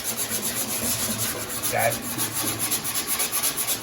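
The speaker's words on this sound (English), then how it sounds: "So, you get the 60 sandpaper here" Hand sanding a Holden FB car body panel with cheap 60-grit sandpaper, a steady rasping rub repeating in quick strokes throughout, close and moderately loud, with no talking.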